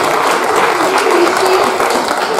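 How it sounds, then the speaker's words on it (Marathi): An audience claps loudly at a Christmas church celebration, a thick, sustained burst of applause close and full throughout. "जोरदार टाळ्या पुन्हा एक बार वाजवत आपण"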